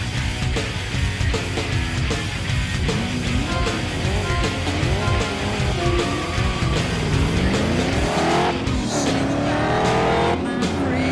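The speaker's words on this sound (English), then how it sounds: "Start your engines!" Race car engines and tires in Ford Racing 2, loud revving engines rising and falling in pitch with gear shifts, overlapping cars and occasional tire squeal, continuous and close with no talk.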